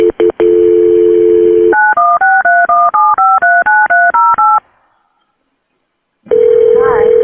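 A call is connected through to state police: a steady dial tone, then a fast series of about a dozen touch-tone dialing beeps, a pause of silence, and the line returning with a tone while a voice starts faintly.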